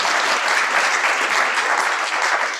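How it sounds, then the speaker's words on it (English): Sustained applause from an award-ceremony audience for an ambassador at an Australia Day event, a steady dense clapping that holds evenly throughout with no voices over it. "Another round of applause for our ambassador"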